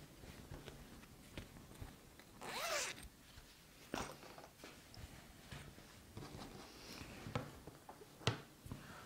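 Zipper on a handmade fabric bag being opened in a quiet sewing setup, a rising zip burst near the middle among soft handling rustles and small taps, with no talking.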